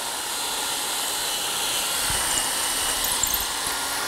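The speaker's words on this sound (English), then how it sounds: "Drill that hole." A drill with a 6-inch aircraft bit bores a hole through a cabinetmaking jig, a loud, steady whirring drone holding without a break for several seconds, up close and without speech.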